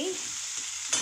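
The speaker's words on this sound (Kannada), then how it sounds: "ಇದನ್ನು ಸ್ವಲ್ಪ ಫ್ರೈ ಮಾಡೋಣ." Something frying in a pan while making Andhra-style tomato chutney, a brief steady sizzle heard close with no talk.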